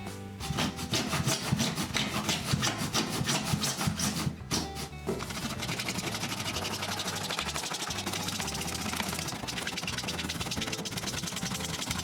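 A hand pipe saw cuts through an existing toilet drain pipe during a DIY toilet installation in an old house. Quick rhythmic rasping strokes come close and loud for several seconds, then give way to a steadier, smoother grinding.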